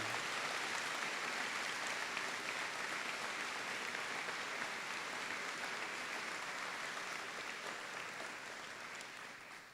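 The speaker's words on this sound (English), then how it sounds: "have a round of applause to thank all the people that helped organize this convocation" Steady applause from a seated audience at a university convocation ceremony, a dense wash of clapping held throughout, fairly distant and slowly tapering near the end.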